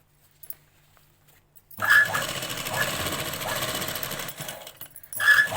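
A sewing machine stitches embroidery in one steady, loud run of rapid needle chatter lasting a few seconds, starting abruptly after near silence.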